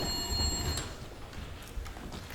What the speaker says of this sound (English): Someday that phone's gonna ring